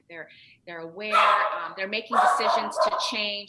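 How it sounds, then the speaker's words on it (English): A dog barks in the background during a live radio show while a voice talks in the foreground. The short, high yips are mostly buried under the talking. "That's my dog in the background."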